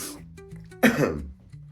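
A person with a cold gives a single harsh, close cough with some throat clearing, after a quiet stretch with faint low background hum.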